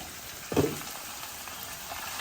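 Coriander seeds and chili fry in a pan while being stirred, giving a steady close sizzle with one brief scraping stir partway through.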